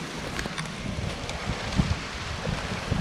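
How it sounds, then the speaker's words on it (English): Gusty hurricane wind during Hurricane Ian in North Port, Florida buffets and rumbles in uneven bursts, with low thumps of wind hitting the microphone and a rushing background. "It's probably about maybe 30 mile an hour winds, gusting a little bit more."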